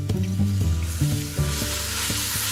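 Onions for minestrone soup sizzle in a pan with a dense, close hiss, joined by a low droning hum and a few soft bumps of movement.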